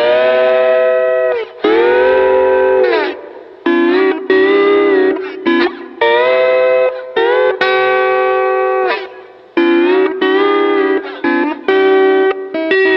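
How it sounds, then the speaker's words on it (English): Lap steel guitar played through a small Fender Pro Junior tube amp, sustained sliding notes and chords with effects-laden tone, loud and close, in phrases separated by brief pauses. "I bought me a little lap steel guitar"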